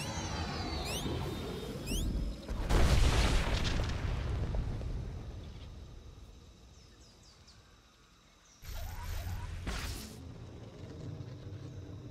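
Blaster fire and a heavy explosion in Star Wars: The Old Republic: laser zaps open, then a deep rumbling boom swells and fades, followed by another burst of loud impact noise and further zaps.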